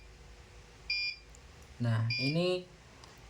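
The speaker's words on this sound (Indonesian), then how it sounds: "notifikasi untuk kita persiapan menuju sholat alias menuju adzan" An ESP32-based SholatAlert device gives a prayer-time notification, two short, clear electronic beeps with a pause between them, heard alongside a brief spoken voice.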